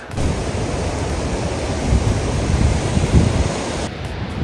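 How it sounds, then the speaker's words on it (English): A glacier-fed waterfall in Nepal's Everest region, between Namche and Dingboche, roars as a loud, steady broadband rush. It sounds close and constant, with a slight surge midway and an abrupt drop near the end. "वो जो पानी है ना वो ऊपर ग्लेशियर से आ रहा है."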